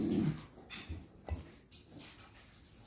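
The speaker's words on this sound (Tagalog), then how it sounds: "Pasensya na sa mga aso kung may ingay" A dog whimpers and makes soft, faint sounds at a distance, with a few brief thumps and small noises in a quiet room, while ginataang bilo-bilo with sago is being cooked.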